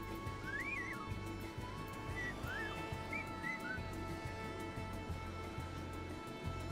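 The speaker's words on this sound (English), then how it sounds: "I love how you can hear it whistle." A chocobo companion in Final Fantasy XIV gives several short, rising bird-like whistles over a steady droning game background, with quieter chirps scattered through.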